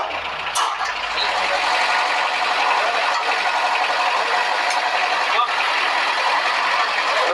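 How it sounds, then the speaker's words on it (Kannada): A 30 kilowatt generator runs steadily and loudly nearby, a continuous broad engine roar with a constant level throughout, with one brief knock partway in. "ಜನರೇಟರ್ ತಿರುಗ್ತಾ ಇದೆ."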